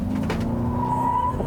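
A 2021 Toyota RAV4 Prime XSE does a brief burnout, its front tires squealing and scrubbing over a loud, steady engine drone.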